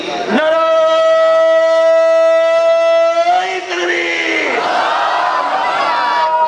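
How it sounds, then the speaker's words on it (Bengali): A crowd at an outdoor Quran gathering shouts a loud sustained takbir in unison, voices holding one long pitched chant before breaking into ragged, overlapping cries. "আসুন আমরা একটু তাকবীর দিয়ে শুরু করি।"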